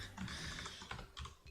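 Rapid, close clatter of keys on a computer keyboard, a dense burst of typing with short pauses, no voices.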